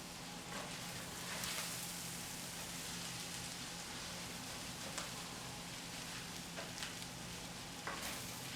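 Beef noodle stir fry being tossed in a pan, a soft continuous sizzle with a few faint scraping stirs, fairly quiet and even, with no voices.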